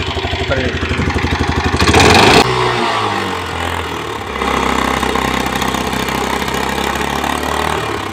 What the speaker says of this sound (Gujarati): હમણાં તમને ગાડી ચાલુ કરી બતાવું